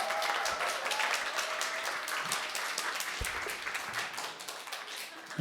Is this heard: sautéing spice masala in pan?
no